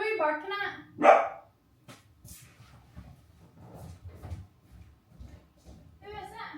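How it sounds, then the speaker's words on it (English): A dog barks a couple of times close by in a home kitchen, loud, short bursts, followed by softer household noise and a person talking. "Who are you barking at?"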